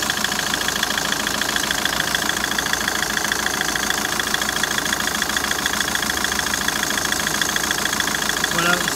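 2008 Citroën C5 engine idling with the air-conditioning compressor running: a steady close mechanical hum with a fine regular pulsing rattle, constant level throughout, with a voice talking over it.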